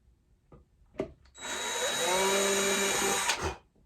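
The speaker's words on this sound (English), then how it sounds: "So we will drill right on top of the marks here" A few light taps, then a power drill whirs steadily for about two seconds with a high whine while drilling holes in a wooden cigar box, before stopping.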